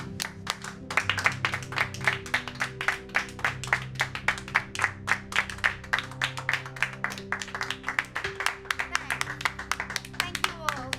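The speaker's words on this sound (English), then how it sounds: "let's give a warm round of applause to Miss Daisy Brooks for" Clapping from an audience honoring a woman at a board ceremony, a series of sharp individual claps in a steady rhythm over a sustained musical backdrop, fairly close and moderately loud.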